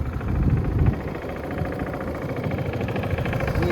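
A Honda Forza MF08 scooter engine idles steadily with a low, even mechanical hum and a faint rapid pulse, close by and unbroken, without speech.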